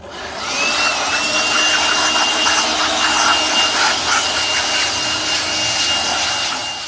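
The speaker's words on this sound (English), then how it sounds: "And I'm going to blow off all the sand and other stuff off of here." Compressed air blasts sand and debris off engine parts near a gas tank that had sand put in it, a loud, continuous close-up hiss with a faint high whistle running the whole time.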